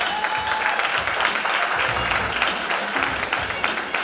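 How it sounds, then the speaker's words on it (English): Audience applause at the KZN Youth Business Awards ceremony, sustained clapping from a sizable crowd, fairly loud and even, with a faint tone briefly audible early on. "Applause, ladies and gentlemen."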